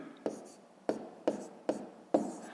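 A pen or pencil writes numbers by hand on paper for column multiplication in a quiet room, with five soft, close tapping strokes spaced about half a second apart.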